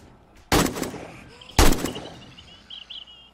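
Two loud gunshot blasts from the survival zombie game 7 Days to Die, fired from the hip about a second apart, followed by faint electronic chirps and game ambience.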